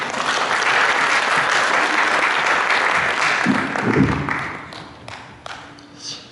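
A church congregation claps loudly in welcome for a pastor, dense continuous applause that thins out after a few seconds, leaving scattered claps and light shuffling.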